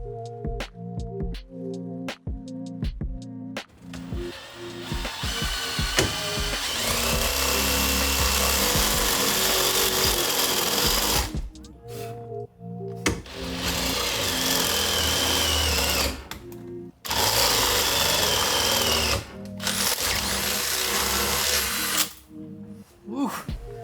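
A power drill with a large bit bores into a car steering wheel in a 1980s-era Pontiac Fiero, starting with short bursts, then long sustained whining runs broken by brief pauses, close and loud.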